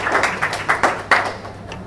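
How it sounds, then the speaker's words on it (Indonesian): An audience at a live Jakarta Facebook-marketing seminar claps to welcome a speaker, a brief patter of scattered hand claps with several sharper bursts, fairly close and unaccompanied by talk. "mari kita beri tepuk tangan buat Mas Dedi Mulyono"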